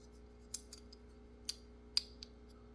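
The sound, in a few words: Kizer Amicus knife blade clicking into button lock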